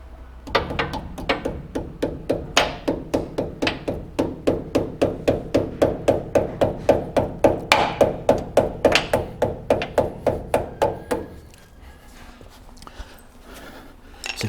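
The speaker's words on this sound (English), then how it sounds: "I'll get a hammer to help encourage it along the way" Steady, rapid hammer blows on a metal bumper being fitted to a 1960-72 Chevy or GMC truck, about two or three per second, loud and close, continuing for around ten seconds before stopping.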